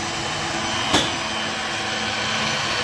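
The X-axis motor of a low-cost three-axis CNC milling machine runs with a steady, loud broadband whir, broken by one short click near the start, and there is no speech.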